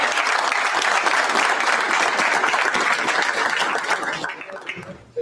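Steady, loud applause from a crowd fills the clip, dense and continuous, before tapering off near the end.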